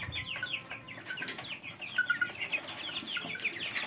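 Month-old Egyptian baladi chickens cluck and peep in a busy, overlapping chorus, close by and fairly steady, with occasional wing flutters.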